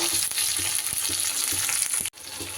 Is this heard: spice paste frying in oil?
yes